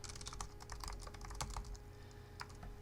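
Rapid, steady typing on a computer keyboard, close and clear, with dense irregular keystrokes running throughout and no talk.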